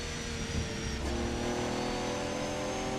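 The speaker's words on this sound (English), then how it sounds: "On board here with Lucas Simfer in the Radical." A Radical race car's engine drones steadily from onboard at Silverstone in a sim racing GT3 series event, with a brief rise in pitch near the start.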